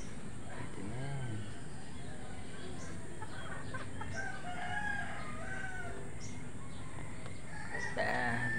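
Chickens cluck close by at a backyard coop while a rooster crows repeatedly, with steady farmyard background noise throughout.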